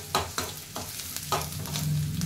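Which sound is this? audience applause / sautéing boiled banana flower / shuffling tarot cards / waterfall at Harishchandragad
sautéing boiled banana flower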